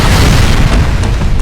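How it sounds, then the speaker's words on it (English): Heavy, deep booming blasts from battle aboard a ship's interior in Halo: Combat Evolved, loud and continuous with rumbling low end, no voices. "Explosions are going off"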